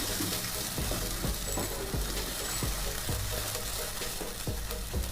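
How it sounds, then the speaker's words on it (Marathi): Onion paste sizzling and frying in hot oil with spices for paneer rassa bhaji, a steady crackling sizzle with repeated stirring scrapes throughout, close and fairly loud with no talking. "आता आपण यामध्ये कांद्याची पेस्ट टाकूया."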